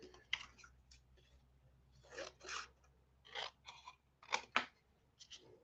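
Scissors cutting through card for a diorama, with a series of short, crisp snips and clicks in separate bursts, close and fairly quiet.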